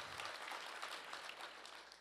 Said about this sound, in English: Give Polly a round of applause.